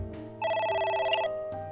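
Ringing phone in the Ai: The Somnium Files game, one warbling electronic trill of fast pulsed tones under a faint game background, crisp and up front, no voices.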